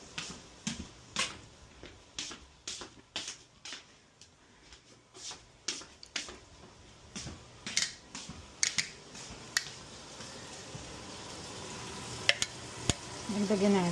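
Food frying in olive oil gives steady soft sizzling, punctuated by a run of sharp clicking taps and stirring knocks at uneven intervals, close and fairly quiet.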